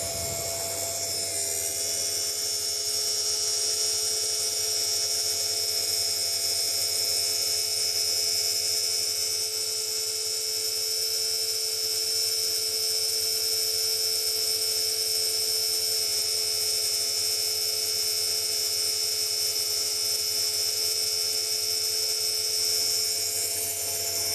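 A small electric motor runs steadily on a 300 W home power supply, giving a constant, loud electrical whine and hum with no change in pitch from start to finish.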